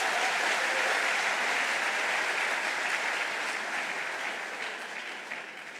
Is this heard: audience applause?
yes